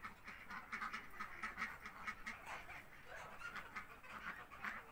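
White ducks on a village farm quack in a rapid, repeated chatter, several calls overlapping at a moderate distance for the whole stretch, with no talking.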